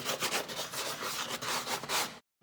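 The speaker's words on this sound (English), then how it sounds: "Sand the excess down, okay?" Sandpaper rubs over dried Drydex compound on a drywall patch in a steady back-and-forth scrape, close and loud, ending in brief silence.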